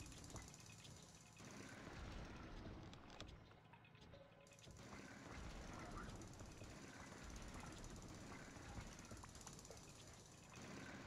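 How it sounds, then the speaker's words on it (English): Drilling in the mining game Manic Miners, a Rock Raiders remake, heard as a continuous rough mechanical grind mixed with other game machinery noise, steady and fairly loud throughout with a brief dip near the middle. "A lot of drilling action about to happen now."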